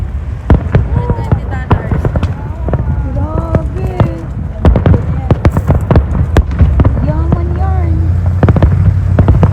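Fireworks display at Global Festival Calgary, with sharp repeated bangs and crackles at irregular intervals, loud and close, while people talk and exclaim over the explosions.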